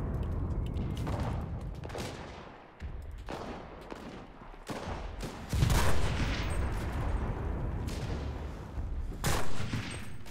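Sustained battle din from the Enlisted video game in North Africa: dense gunfire, bursts of machine-gun fire and heavy artillery booms, loud and continuous, with a few bigger blasts standing out.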